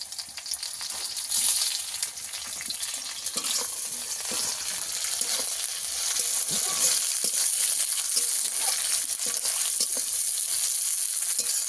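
Chopped tomatoes sizzle and crackle in hot oil over onions fried in a pan, a steady close frying hiss with occasional stirring scrapes and no voices.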